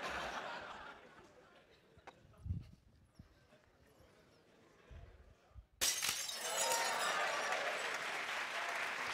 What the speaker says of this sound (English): Students love it when the glass breaks.